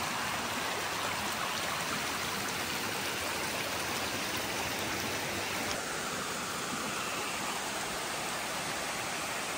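Rain-swollen stream rushing along the Appalachian Trail, a constant broadband roar of fast-moving water, close and steady throughout with no voices.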